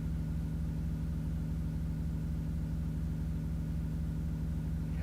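Steady, loud engine rumble from a vehicle in the video game Tornado: Research and Rescue, a low idling drone with a regular pulsing beat that holds evenly throughout, alone with no talk.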